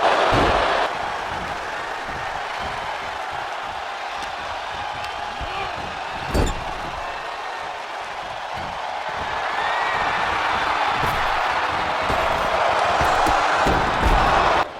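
Arena crowd noise from the WWE 2K24 wrestling video game, a continuous dense roar of the audience with a single thud near the middle and swelling louder toward the end, with a voice speaking over it.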